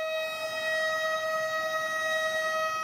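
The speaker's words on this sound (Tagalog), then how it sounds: "matapos tumunog ang sirena ng hudyat ng malakas na lindol" A civil defense siren sounds at Marikina City Hall for an earthquake drill, a loud, steady wailing tone held without a break, with no voices.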